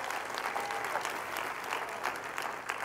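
A church congregation claps hands in praise, a brisk, continuous crowd of clapping throughout with a faint voice underneath.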